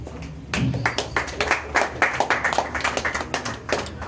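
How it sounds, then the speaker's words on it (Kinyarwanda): Audience applause at an event in Rwanda, a crowd clapping steadily and loudly for about three and a half seconds after a brief quiet start, with dense overlapping claps close by. "Mbanze mwiha amashyi."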